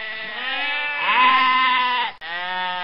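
Sheep bleating close by in a long, wavering call of about two seconds, with a brief break and then a second bleat. No speech is heard.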